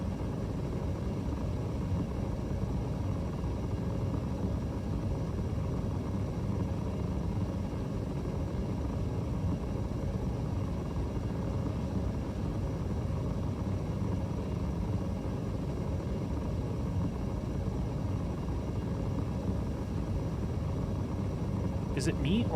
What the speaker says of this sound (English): Is it me, or is my Hornet unusually loud in Quantum today?